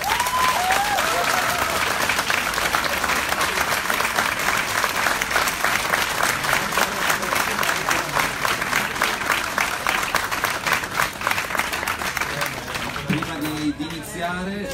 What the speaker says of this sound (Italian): Gli farei un altro applauso.